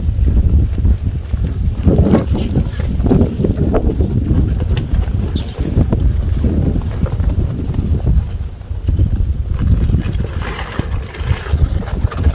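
Strong typhoon-force wind buffets the microphone outdoors with a heavy, continuous roar and gusting rumble, loud and unbroken for the whole stretch.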